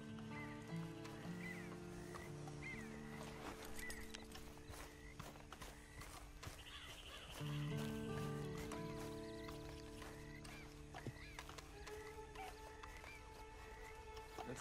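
Horse in Red Dead Online walking with soft, steady hoof clip-clops, faint beneath a sustained orchestral music bed.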